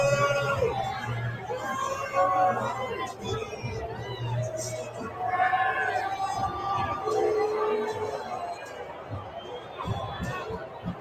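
Large crowd gathered outside a stadium as Trump arrives, a steady roar of many voices with rising and falling jeers and shouts, loud and close, with a person speaking over it.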